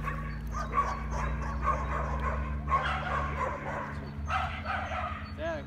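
Dogs bark and yip in short bursts during a dog-attack provocation training session over a steady low background hum, with occasional whimpering between barks.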